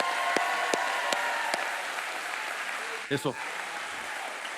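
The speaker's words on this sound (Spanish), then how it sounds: "un aplauso para mi amigo" A church congregation applauds steadily, a few sharp claps and a brief spoken exclamation cutting through the dense clapping.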